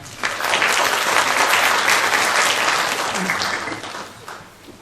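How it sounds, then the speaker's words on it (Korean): Applause from a seminar audience welcoming a university professor to present on hanok as living space, a dense sustained clapping that rises quickly, holds steady, then tapers off near the end. "박수로 맞이해 주시기 바랍니다"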